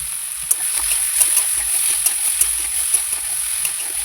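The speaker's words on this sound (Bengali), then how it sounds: "সেই ভাজা তেলের মধ্যে আদা বাটা, পেঁয়াজ বাটা, রসুন বাটা, জিরে বাটা, সাথে পেঁয়াজ কুচি, টমেটো কুচি, কাঁচা লঙ্কা কুচি দিয়ে ভালো করে কষিয়ে নেব" Ginger, onion, garlic and cumin paste with chopped onion, tomato and green chilli frying in hot oil for an egg curry, a steady loud hiss with small regular pops and scrapes throughout, no talking.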